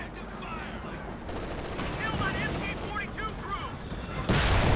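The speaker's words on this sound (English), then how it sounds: "Sniper opening up there on the anti-tank gun crew. Mortars firing as well." Sniper shots and mortar fire crackle and thud in the battle game Company of Heroes 2, a dense run of explosions and gunfire under a commentator's voice, with a louder blast near the end.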